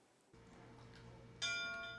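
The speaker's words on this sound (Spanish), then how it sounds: "Las campanadas en el Museo de Historia Coronel Simón Reyes Hernández" A church bell at a history museum in Cuba strikes once with a bright, ringing tone that hangs and slowly fades over a steady low hum.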